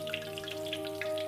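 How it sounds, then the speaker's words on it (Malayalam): Curry leaves fry in hot oil for pakkavada, a steady close sizzle with scattered bright pops over a low constant hum. "കറിവേപ്പില, അതും ഈ എണ്ണയിൽ തന്നെ നന്നായി മുരിച്ച് ഇതിലേക്ക് ചേർക്കാം"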